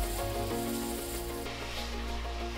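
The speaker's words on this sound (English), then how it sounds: "Now let's start welding." A Power-Tec nitrogen plastic welder runs on a cracked car bumper, giving a steady loud hiss of gas flow with a constant hum underneath, unbroken throughout.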